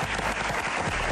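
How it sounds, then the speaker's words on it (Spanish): Dense applause from a studio audience on a Spanish-language interview show, steady broadband clapping filling the whole short moment without pauses. "Un aplauso para él, por favor"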